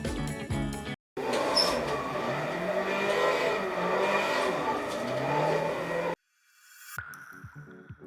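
Toyota AE86 Trueno in the Assetto Corsa racing sim on the Hakone Nanamagari mountain pass, a steady engine drone holding for several seconds between abrupt cuts, with brief music-like fragments at the start and end.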